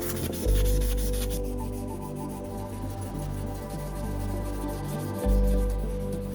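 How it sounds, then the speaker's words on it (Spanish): Very fine sandpaper rubbing over a heavily burnt surface, a steady continuous scratchy hiss of sanding that swells and eases with each stroke, close and fairly loud with no voices. "vamos a pulirla con una lija muy fina."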